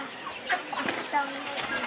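A rooster clucks in short bursts against a busy, noisy background, with no clear crowing.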